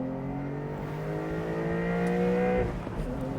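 A 2025 Porsche 911 Carrera sports car engine revs high with a steady, rising mechanical whine, then drops off briefly near the end, heard from inside or close by.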